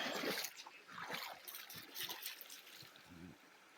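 Forest creek water trickling and splashing close by, soft irregular burbles and splatters at low volume, continuous throughout.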